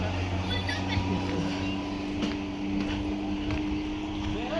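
Boat pulling away from the shore on a trip near Maithan Dam, a low steady motor drone with wind buffeting, heard under a person talking.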